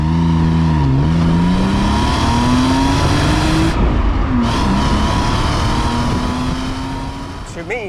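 A BMW E34 525i rated at 190 horsepower pulls hard through the gears, its engine note climbing steadily, dropping briefly at each shift, then rising again, loud and close from start to finish.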